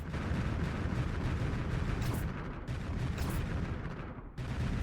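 Ship weapons firing steadily during a space battle in Space Haven, a dense, rumbling barrage of heavy booms and rattling shots with no letup, with brief dips in the noise.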